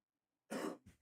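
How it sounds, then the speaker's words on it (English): A single close, harsh cough, followed by a quieter short throat-clearing catch, with silence before it. "Pardon me, I had to cough."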